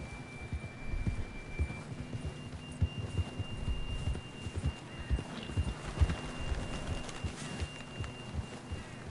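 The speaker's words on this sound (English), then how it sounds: "John was riding that horse when we left Blackwater." Rhythmic hoofbeats of a horse galloping steadily across the ground in the video game Red Dead Redemption 2, close and continuous, with a faint hum underneath.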